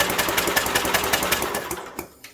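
A 1967 Unico 7hp tractor engine turning over on its starter-generator, a steady rapid mechanical chugging pulse, loud and close, that slows and fades as cranking stops.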